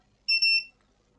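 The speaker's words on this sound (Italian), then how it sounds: "non mi piace il bip sul diodo" A multimeter in diode test mode emits a single short, clean electronic beep of about half a second while probing ground points on a broken Nintendo Switch console under repair; the tone is loud and stands alone.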